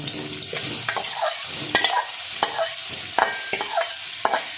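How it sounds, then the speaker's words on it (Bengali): Soybean chunks, pre-coated with salt, turmeric and oil, fry in hot oil with a steady broadband sizzle, while repeated sharp clinks and scrapes of a spatula stirring the pan punctuate it, close and fairly loud. "এই তেলের মধ্যে এবার আমি সয়াবিনটা ভেজে নেব।"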